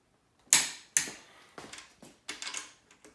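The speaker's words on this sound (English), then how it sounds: "I'm gonna start torquing it to 70." A torque wrench tightens cylinder head bolts on an 800 hp Honda LSVtec engine build. About six sharp, close mechanical clicks come in an uneven sequence, with the first two loudest.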